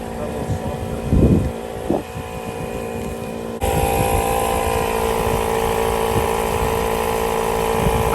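An Infiniti Q60 engine runs with a steady low hum and a faint whine, close by, after a short stretch of voices and knocks. The engine sound becomes louder and fuller partway through and then holds a constant drone.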